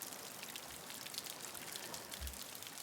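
Steady rain patters continuously around a guided yoga nidra meditation, an even, close hiss of many drops with a couple of soft low thumps, and no voice over it.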